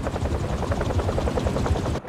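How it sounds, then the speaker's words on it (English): Helicopter blades thump in a fast, steady chop within the Spider-Man 2 video game, loud and close with no voices, cutting off abruptly at the end. "a helicopter's blades"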